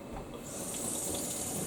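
Cold water runs from a kitchen tap into a jug during a school baking lesson, a steady continuous rushing hiss with no talk over it.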